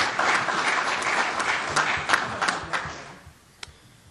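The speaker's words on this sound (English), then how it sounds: "a big round of applause" Audience applause after a presentation on manure nutrient utilization, a few seconds of steady clapping that thins out and dies away to scattered claps.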